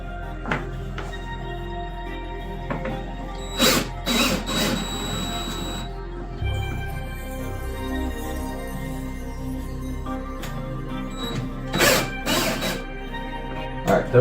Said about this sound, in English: These ones in the back have to be loosened up.